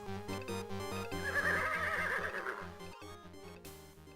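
A horse from the King's Quest 6 adventure game whinnies loudly while its hooves clip-clop in a steady rhythm, all over a tuneful game music backdrop that swells in the middle and fades near the end.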